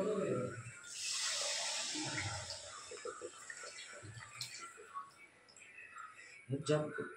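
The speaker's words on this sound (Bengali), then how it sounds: "জলটা আমি গরম করে রেখেছি আগে, এখন জলটা ঢেলে দিলাম" Pre-heated hot water is poured into a pan of fried ingredients for a bish kochuri jol curry, giving a soft rushing, hissing pour up close with faint voices around it.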